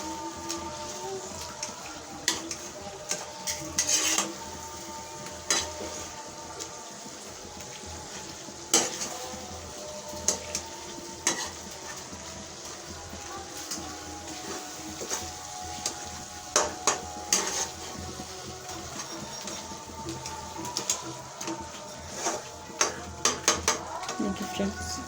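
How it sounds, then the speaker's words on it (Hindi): Tomato masala fries in a pan with a constant sizzle while a spoon stirs and scrapes against the metal in repeated clinks and knocks, close and moderately loud throughout. "हम इस तरीके से इसको मिक्स कर लेंगे थोड़ा सा ना, ताकि मसाला अच्छे से बन जाए"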